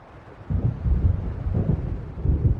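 Low rumbling thunder of a gathering storm in the Alan Wake video game, a muffled roll that swells after a quiet start and pulses unevenly, fairly close, with no voices.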